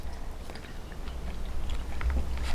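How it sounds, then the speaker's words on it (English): Someone bites into and chews glazed, marinated fish skin from a lunch bento, with close, steady crunching and mouth sounds that grow slightly louder toward the end. "this has a crunch, and all the marinade is glazed over it"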